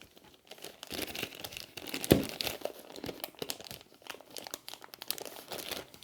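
Plastic wrap being torn and crumpled off the Toxic expansion box of a board game, close and fairly quiet, with irregular crinkling bursts and one sharp rip partway through.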